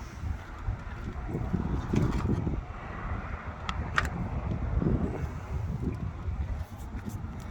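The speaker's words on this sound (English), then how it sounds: "It's a bit windy at the moment, so I don't know if you can hear that" Steady wind buffets the microphone outdoors beside a Toyota Land Cruiser 79 Series dual cab with low, rumbling gusts throughout, swelling and easing, with a few faint clicks and knocks in the background.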